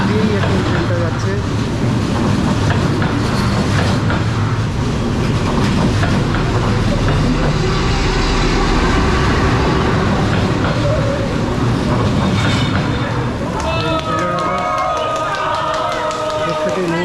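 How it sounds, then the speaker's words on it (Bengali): A train rolls past at very close range along Train Street in Hanoi, its steady loud rumble and clatter filling the scene, with crowd noise and voices mixed in. "একদম শরীরের পাশ দিয়েই এখন ট্রেনটা যাচ্ছে।"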